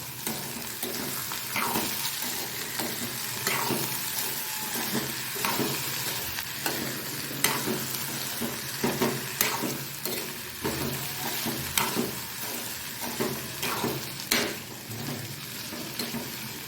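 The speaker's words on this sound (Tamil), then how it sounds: "இப்போது உப்பு சேர்த்ததுக்கப்புறம் கிண்டி விடுவோம்" Potato poriyal sizzles and fries in a pan while a spoon stirs it, scraping and clinking against the metal at an uneven pace under a continuous crackling hiss.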